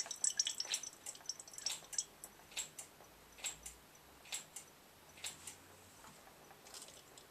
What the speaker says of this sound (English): You can hear the little gurgles of air coming out of the piston, out of the caliper.